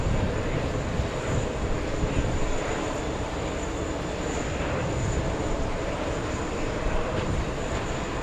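A Boeing 777 airliner arriving at JFK from Paris Charles de Gaulle produces a loud, continuous jet engine rumble and hiss that stays even throughout and carries no voices.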